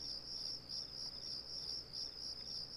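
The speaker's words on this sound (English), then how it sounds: "Ah, crickets." Crickets chirping at night in the video game Grandia II, a quiet, steady high trill that pulses in regular bursts over a faint background hum, with no voices.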